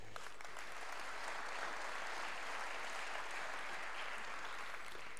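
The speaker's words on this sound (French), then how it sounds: "on peut les applaudir" Steady applause from a conference audience, a dense, even wash of clapping at moderate level that holds constant from start to finish.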